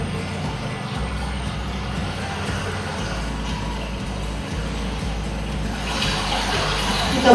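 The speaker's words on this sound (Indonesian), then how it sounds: "air mengalir." Water flows in a steady, continuous broadband rush that holds at an even level and swells slightly toward the end, with no speech over it.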